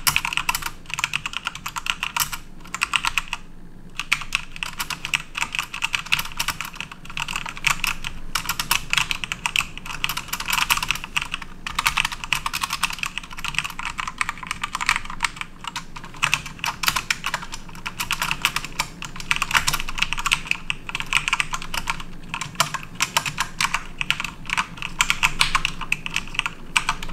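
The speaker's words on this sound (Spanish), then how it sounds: "Hagamos una pequeña prueba de sonido para que ustedes mismos puedan escuchar cómo es que suenan estos switches." Mechanical key switches of an Aorus K7 gaming keyboard clatter under fast, unbroken typing, close-up and steady for the whole stretch, with one short lull and no voices.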